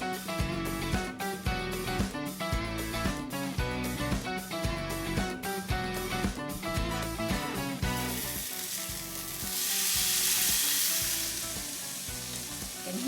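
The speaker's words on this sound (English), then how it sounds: "And hear that sizzle." Loud, crackling sizzle of marinated rib eye steak searing on a preheated indoor grill at 425 degrees, steady and close for the whole stretch, with a brief surge of hissing near the end.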